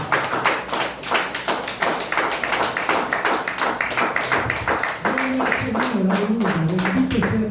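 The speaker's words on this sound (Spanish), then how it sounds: "Denle aplauso al Señor" A congregation at a Spanish-language evangelical church service claps in a brisk, even rhythm, loud and close, with a sustained voice or tonal sound joining the clapping during the second half.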